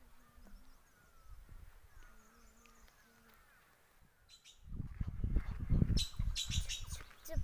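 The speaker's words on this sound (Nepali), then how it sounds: "पुत्रे चरा कराउँदैछ।" A wild bird, the putre, calls in short repeated tonal phrases over warm hillside orange orchards at Chamkharka ridge in Kavre, Nepal, fairly faint at first before louder rustling and handling noise take over.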